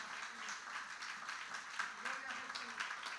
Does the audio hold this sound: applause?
yes